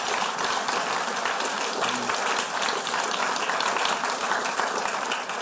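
A crowd applauds a band, a thick, continuous roar of clapping at steady loudness throughout, close and full with no talk rising above it.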